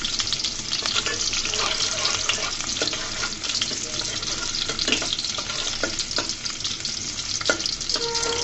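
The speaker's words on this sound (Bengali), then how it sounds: "দিয়ে দিলাম বেশ কিছু পেঁয়াজ রসুনগুলোকে আমি হালকা করে বাদামি কালার করে ভেজে নিব" Onions and garlic frying in a pan, a steady dense sizzle with occasional stirring scrapes, close and continuous throughout, no voices.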